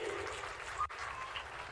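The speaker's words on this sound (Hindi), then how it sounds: "प्रधानमंत्री के लिए जोरदार ताली बजाओ" An audience at a political event claps for the Prime Minister, a short, faint patter of applause heard from a distance.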